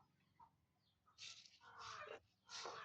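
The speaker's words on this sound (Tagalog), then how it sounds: "Tingog ng uwak guys." A crow caws a few times at an outdoor spot, harsh bursts coming at moderate distance over quiet background.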